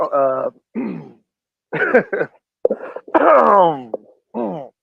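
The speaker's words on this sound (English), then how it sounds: "I'm clearing my throat. Gotta clear my throat." A man clears his throat several times in short, rough bursts with groaning vocal sounds between them, close and loud.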